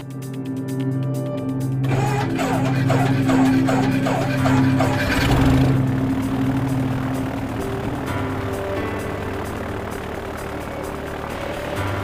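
Light training aircraft's piston engine droning steadily through a spin practice manoeuvre, near and continuous, with its tone shifting and roughening partway through as the airflow changes.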